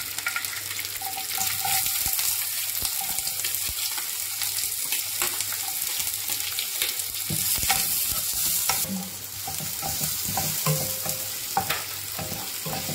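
Onion frying in hot oil with popped mustard seeds for a Maharashtrian cashew vegetable, a steady close sizzle with occasional stirring scrapes throughout, no talk.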